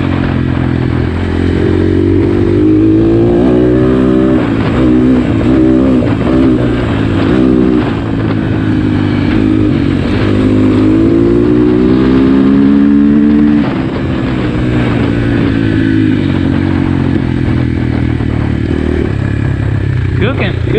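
A 2021.5 GPX FSE 250 E dirt bike engine revving while riding, its buzzing note rising and falling through repeated throttle sweeps, close and loud, with voices talking over it.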